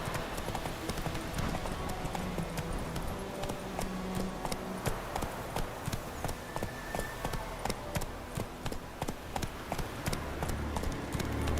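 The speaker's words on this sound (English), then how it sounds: "Run, Roach." A horse gallops in the video game The Witcher 3, its quick, evenly spaced hoofbeats drumming steadily over faint outdoor game ambience.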